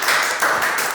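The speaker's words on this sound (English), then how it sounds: "This first clap is for you." Hands clap in a film-making class, a few sharp claps in quick succession, loud and close with no talking.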